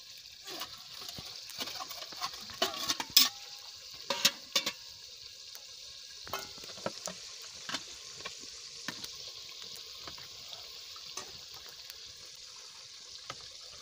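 Water poured into a pan of frying potatoes and carrots for vegetable pulao, a steady close sizzling hiss with scattered clinks and knocks of utensils, no talk.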